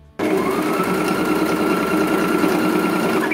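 A sewing machine stitches cloth for a child's blouse, starting abruptly and then running as a steady, loud, continuous motor hum with fast needle clatter, close by and with no talking.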